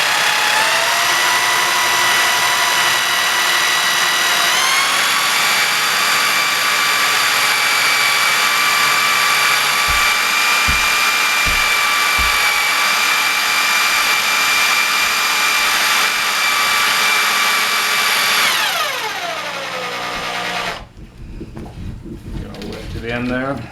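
A drill turns a mandrel, winding chainmaille wire into a tight coil. Its motor gives a steady, close, high whine that climbs at the start, holds for a long stretch, then slows and fades near the end.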